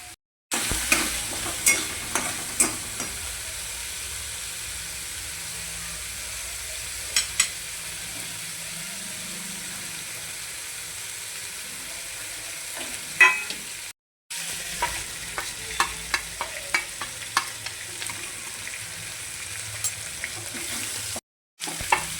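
Spiced potatoes fry in a kadhai as garam masala, chicken masala and homemade masala are stirred in: a continuous sizzle broken by frequent scraping and clattering spoon strokes, with two brief dropouts.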